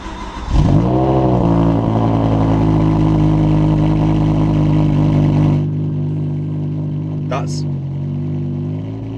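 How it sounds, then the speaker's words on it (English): A BMW M6 with a V10 engine cold-starts: a sharp crank and catch, then a loud, steady high idle that drops slightly in pitch and volume after several seconds, with a brief high squeal near the end. "let's go for a cold start"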